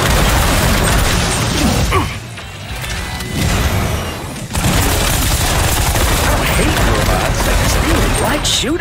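Gunfire from shooting enemies in the Space Punks video game, loud rapid bursts of automatic fire with booming impacts, a brief lull midway, then more sustained shooting.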